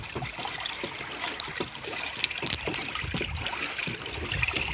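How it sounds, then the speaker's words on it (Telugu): Continuous sloshing and swirling of jaggery water mixed with waste decomposer, stirred with a stick, irregular low splashes, fairly close and steady with no voices. "వేస్ట్ కంపోజర్ వేసిన తర్వాత ఇలా కర్రతో కలపాలి"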